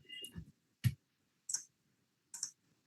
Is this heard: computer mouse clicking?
yes